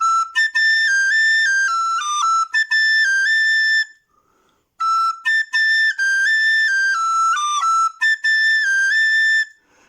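The Irish hornpipe Poll Ha'penny is played on a descant recorder: clear, bright piped notes in a lilting dotted rhythm, phrases broken by short breaths and a pause around the middle, solo and close.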